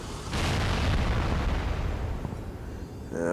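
A propane tank explodes in Halo's Forge mode, a loud booming blast with a crackling, rumbling tail that slowly fades, followed by a brief electronic chime at the very end, with no talking.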